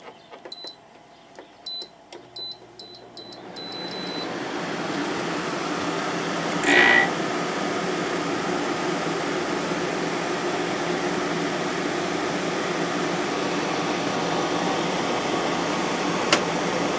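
A GE 8100 BTU window air conditioner switches on after a few clicks, then settles into a steady, loud broadband whoosh of fan and compressor hum that runs unbroken to the end.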